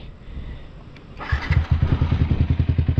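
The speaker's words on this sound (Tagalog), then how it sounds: "ayan yung tunog ayan yung tunog na ating bagong tambocho" A Yamaha Sniper motorcycle starts up and settles into a loud, throaty, pulsing idle from a new exhaust, close by.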